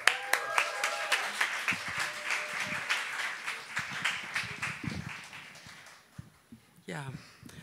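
Audience claps for a poetry slam performer at a Freiburg bar event, with strong individual claps thinning out as the clapping fades, followed by a brief voice near the end.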